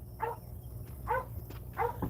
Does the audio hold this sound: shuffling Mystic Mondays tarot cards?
no